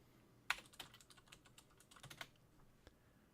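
Quiet keys tap on a computer keyboard, a short irregular run of soft clicks with one sharper stroke early on, close and faint with no talking.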